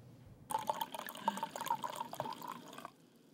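Wine is poured into a glass at an Italian restaurant serving Sicilian wine, a close, gurgling splash lasting about two seconds with a bright bubbling tone, otherwise quiet.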